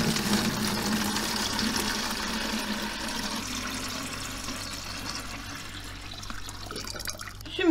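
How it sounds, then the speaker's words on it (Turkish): Drinking water pours steadily into a 5-litre jug being half-filled to make olive brine, a continuous splashing, gurgling flow heard up close and alone for several seconds. "Bunun yarısına kadar su dolduracağım."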